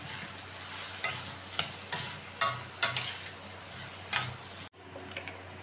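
Bitter gourd pieces stirred in a pan with spices and peanut powder: a low frying hiss with a series of sharp spoon scrapes and knocks, roughly one each second, ending in an abrupt cut to quieter kitchen noise.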